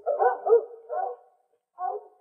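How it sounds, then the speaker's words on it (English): A couple of dogs coming closer bark in three short, clear bursts, the last after a brief silence, standing alone against a quiet background. "it looks to me like a couple of dogs coming this way"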